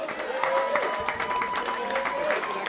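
Applause from the crowd at a comedy roast battle, a loose and fairly quiet patter of hands heard beneath a voice speaking over it.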